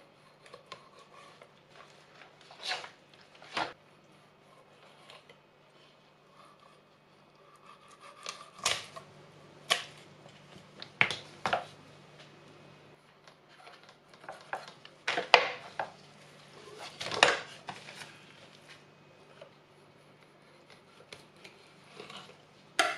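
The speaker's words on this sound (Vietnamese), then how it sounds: "Mình cắt hai bên nha. Rồi cắt cái xương." Salmon being cut along both sides and through the bone gives sharp, irregular crunching snips and scrapes, scattered in bursts with quiet gaps between them, close and without speech.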